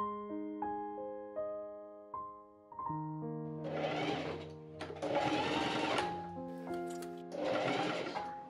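A sewing machine stitching the hood edge of a corset hoodie, running in several short bursts of rapid whirring that stop and restart, close and clear over soft background music.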